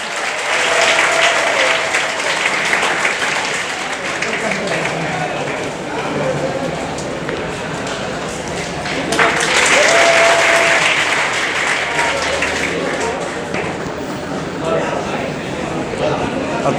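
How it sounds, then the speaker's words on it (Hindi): Sustained audience applause fills a NEET-2022 coaching-class ceremony in Prayagraj, dense and loud throughout with a swell midway, with voices mixed in the crowd. "तालियां बजती रहनी चाहिए, आज इनका दिन है"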